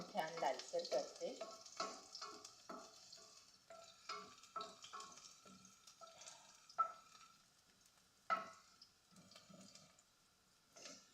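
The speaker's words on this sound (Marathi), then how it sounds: "लसूण छान लालसर करते" Garlic browns in a pan with a low, steady sizzle, joined by repeated close stirring and scraping knocks and a few louder clanks, all quiet and without speech.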